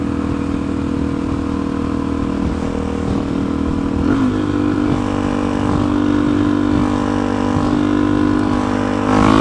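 An empty bus drives past on a road, its engine making a steady, close, loud drone with some clatter that swells slightly toward the end.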